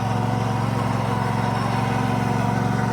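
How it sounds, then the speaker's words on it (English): A Craftsman riding lawn mower engine runs steadily at a loud, even putter, close by and alone, with no talking. "She's taking the walk to get the little riding mower."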